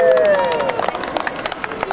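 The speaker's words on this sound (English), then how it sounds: "Round of applause for the model makers, please." A live audience breaks into applause for the model makers at a performance, scattered claps starting after a brief tonal sound, with voices mixed in.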